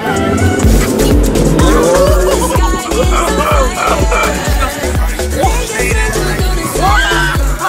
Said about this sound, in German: Zum Beispiel sind wir mit einem geilen Auto ein bisschen rumgefahren